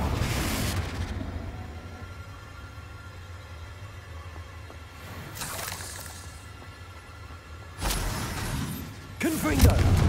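Confringo fire spell blasts in Hogwarts Legacy land as bursts of fiery, crackling explosions, one at the start and heavier ones near the middle and end, over a steady rumbling game backdrop with spoken voices.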